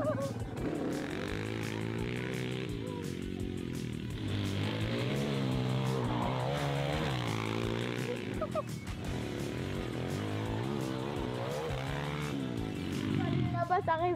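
A quad bike engine runs and revs close by, its pitch rising and falling in repeated surges that carry through the whole stretch, with a voice talking over it at times.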